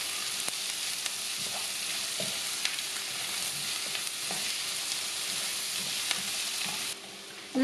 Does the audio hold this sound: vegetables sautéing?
yes